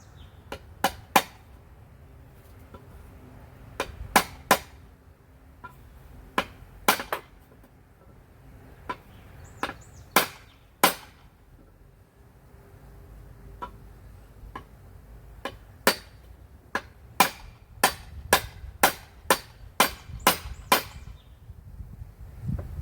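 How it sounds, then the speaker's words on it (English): Irregular sharp knocks from a rubber mallet ring out, sometimes in quick clusters of two or three, with quiet gaps between, during work on a 1965 Ford Thunderbird. "We want to use the rubber hammer."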